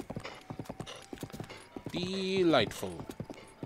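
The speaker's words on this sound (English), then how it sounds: "the horse seems to know where he's going" Horse hooves clip-clop in a steady, close trotting rhythm while riding through Breath of the Wild's Champion's Ballad, with a drawn-out tonal cry in the middle and a brief spoken word near the start.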